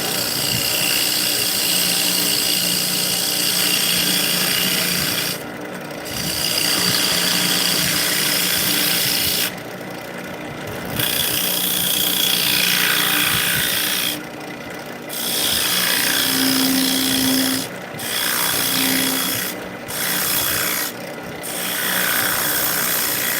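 Coves being cut into a spinning workpiece on a wood lathe with a coving tool, a steady rasping, scraping cut interrupted by several short pauses as the tool lifts off and re-engages, close and fairly loud.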